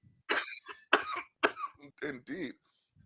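A person coughs and clears their throat in a series of short, close bursts during a casual podcast-style conversation.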